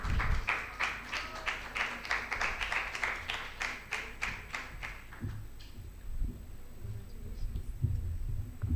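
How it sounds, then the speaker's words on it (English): An audience at a university World Mental Health Day event applauds an award winner, a burst of rhythmic clapping for about five seconds that then thins into a few scattered claps and faint room noise. "A big round of applause for Tannoy Kipgan,"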